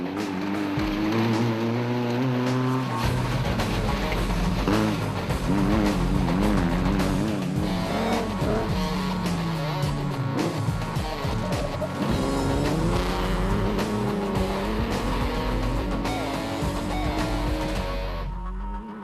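Dragonfly race car at the 2013 Toyota 1000 regional endurance race, its engine note loud and continuous throughout, rising and falling through gear changes as it drives past, with no talk over it.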